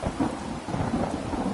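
Thunder rumbles continuously under steady rain in Skyrim, a deep, dense storm wash that fills the whole moment without pause.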